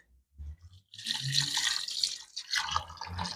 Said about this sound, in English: Now add water until the potatoes are fully covered.